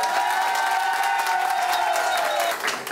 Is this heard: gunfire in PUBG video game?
no